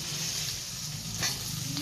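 Stuffed ridge gourds tumble into roasted masala in a pan, giving a steady close sizzle and frying hiss with a soft stir scrape near the middle, no voices over it.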